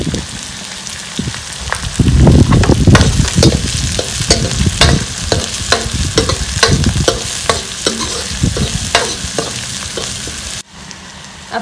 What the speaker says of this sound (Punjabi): ਕੱਟੀ ਹੋਈ ਨਾਲ ਹੀ ਆਪਾਂ ਪਿਆਜ਼ ਪਾ ਦਾਂਗੇ ਇਹਨਾਂ ਨੂੰ 5 ਮਿੰਟ ਭੁੰਨਾਂਗੇ